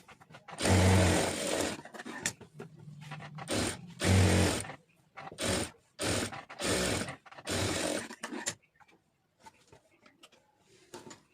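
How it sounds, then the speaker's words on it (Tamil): A sewing machine stitches a neckline on fabric in several loud, close bursts of rapid whirring, separated by short pauses as the cloth is turned, then falls quiet near the end. "இப்போ இதை அப்படியே உள்ளே திருப்பி விட்டு அப்படியே இதில் ஒரு தையல் போட்டுடலாம்"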